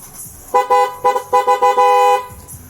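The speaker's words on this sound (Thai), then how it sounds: "อ่าแล้วก็ติดแตรด้วยนะครับ ผมฟังเสียงแตรกันนะครับ" A car horn honks in a series of short beeps followed by one longer sustained blast, loud and close, over faint background noise.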